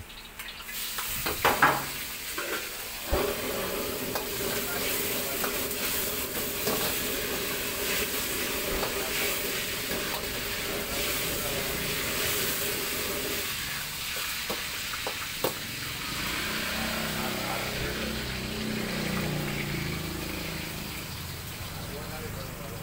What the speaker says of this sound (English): Fried instant noodles